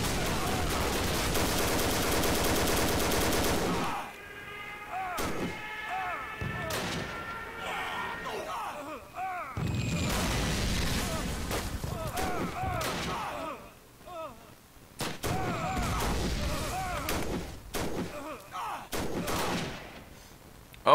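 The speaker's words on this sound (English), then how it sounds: "that was a biplane strafe" Strafing machine-gun fire from a biplane in a World War One video game, sharp bursts and thuds scattered through dense battlefield noise, loud at first then coming in irregular clusters with quieter gaps.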